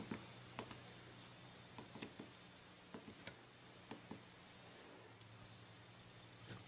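Typing on the small physical keyboard of an Amazon Kindle 3 e-reader, a series of light plastic key clicks in irregular bursts, close and quiet over a faint steady hiss and low hum.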